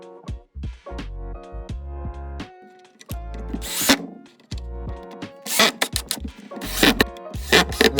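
Power drill driving screws into a scrap-wood stool, a series of close, loud whirring bursts that ramp up and stop repeatedly, with brief gaps and scraping between runs.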